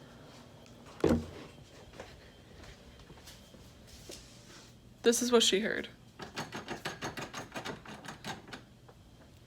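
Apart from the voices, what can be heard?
recording of a distinctive door handle sound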